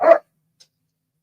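A dog barks once, a sharp, close yap that ends quickly and is followed by near silence with a tiny faint tick, no talking.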